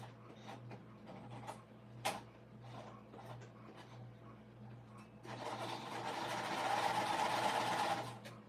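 A sewing machine stitches rows of a puff quilt, first with light ticking mechanical clicks and a steady low hum, then a louder continuous whirring run of rapid stitching near the end.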